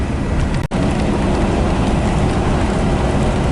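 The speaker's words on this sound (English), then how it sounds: "It's actually raining." Steady rain falls on a desert road near Fresno, a dense continuous hiss with a brief dropout early on, no voices.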